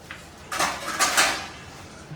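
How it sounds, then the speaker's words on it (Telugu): A metal lid goes onto a cooking pot with a few brief clinks and a scraping rattle, heard close and alone. "ఫస్ట్ అయితే దాని మీద మూత పెడతాం"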